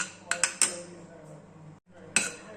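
A spoon stirs a little desi khand into a carrot burfi mixture in a pan, making a few sharp close clinks and scrapes against the metal with a short quiet gap between them.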